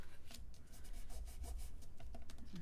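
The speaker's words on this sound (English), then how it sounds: "You can always just take a piece of scrap and just rub that down." A scrap of card being rubbed down by hand for card making, a close, quick back-and-forth scratchy rubbing, steady and unbroken.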